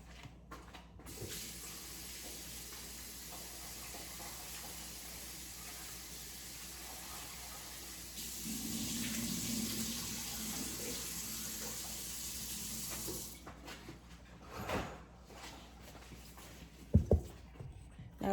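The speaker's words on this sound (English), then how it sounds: "I'm gonna give this a nice little rinse in some cold water" Cold tap water runs steadily into a sink to rinse cut potatoes, a soft continuous stream that grows louder and splashier midway, then stops and leaves a few faint clinks and knocks.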